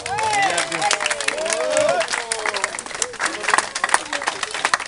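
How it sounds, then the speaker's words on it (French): An audience applauds prize-winning teams at a tennis club doubles awards ceremony, a lively burst of clapping mixed with crowd chatter and voices over it. "on peut les applaudir bien fort"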